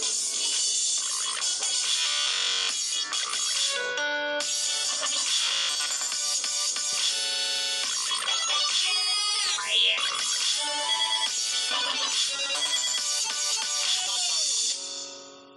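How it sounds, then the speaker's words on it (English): A loud synthetic Windows Phone ringtone melody on a Lumia 1020 plays continuously, dense chiming tones shifting in pitch with brief swoops, then cutting off at the end. "they decided to introduce this absolute abomination of a ringtone"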